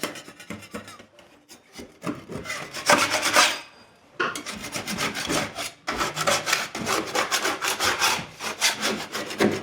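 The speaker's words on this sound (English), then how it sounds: "So just take your scraper and just kind of get in there." Scraper rasping against a plaster wall in short, irregular strokes, close up, with a brief pause before the scraping resumes steadily.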